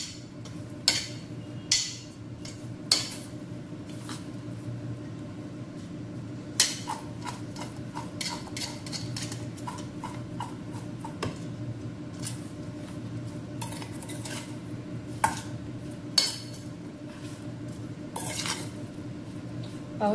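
Spiced chickpeas with a little olive oil being mixed in a bowl or pot for a chickpea frankie, soft steady stirring with scattered sharp clinks of a spoon against the vessel, close and alone.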